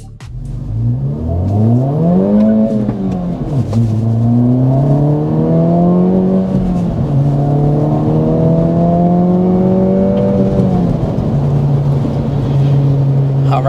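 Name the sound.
2024 Acura Integra Type S accelerating on flat road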